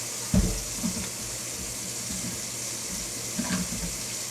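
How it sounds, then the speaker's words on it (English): Cold tap water runs steadily into a sink while a cup is rinsed, a continuous close splashing hiss with a few brief louder knocks of the cup near the start and again toward the end. "You got the cold water going. Rinse it really good."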